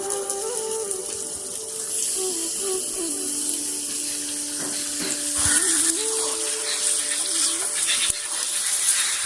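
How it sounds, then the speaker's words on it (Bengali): Chicken pieces sizzling steadily in a pan with chopped tomato for a yogurt chicken curry, a continuous close hiss with light stirring scrapes and a few faint clinks. "মাংসটা দিয়ে একটু আমি কষে নিয়েছি"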